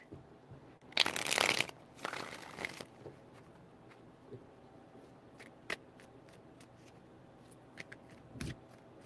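Two quick bursts of a deck of cards being riffled and shuffled, followed by quieter taps and soft handling noises.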